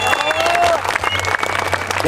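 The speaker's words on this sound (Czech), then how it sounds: "Velký potlesk, děkujeme." Crowd applause at a dragon boat award ceremony outdoors, loud sustained clapping from many people with some cheering and a voice briefly over it.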